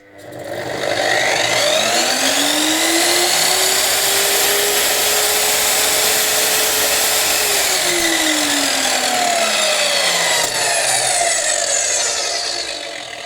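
A GTM HM 1032 miter saw spins up under a soft start, its motor whine rising smoothly to a steady, loud pitch. It holds there, then winds down gradually as the blade coasts to a stop. No speech.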